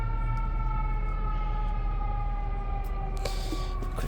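A fire truck's Q2B siren wails steadily in the background of a business complex full of air conditioning units, its sustained tones layered over a constant mechanical hum, with no talking.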